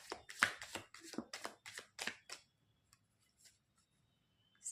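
Tarot cards shuffled by hand in several quick riffling bursts, close and soft, then a near-silent stretch with a faint touch at the end.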